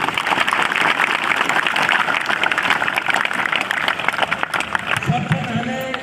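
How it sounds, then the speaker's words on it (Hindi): Loud, dense applause from a crowd of children at a youth group gathering, sustained steadily throughout with some cheering mixed in. "एक बार अपने लिए जोरदार ताली एक बार।"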